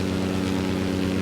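The Antonov An-2 biplane's engine and propeller in Microsoft Flight Simulator 2020 make a loud, steady, low droning hum with a constant throb, unbroken and without voices.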